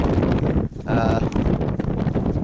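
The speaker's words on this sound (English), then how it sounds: "It's just so windy." Strong wind buffets the microphone in continuous loud gusts on Purple Mountain at the Gap of Dunloe, with a brief lull partway through before the roar returns.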